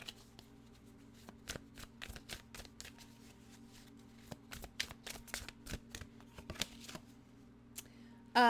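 A tarot deck is shuffled close by, giving repeated papery flicks and taps in uneven bursts. The room is quiet with no speech, and a short bump comes right at the end.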